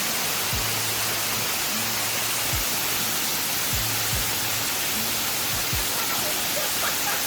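A jungle waterfall in Bali pours in a steady, broadband rush of falling water, constant and fairly loud, with a few faint low thumps beneath the continuous roar.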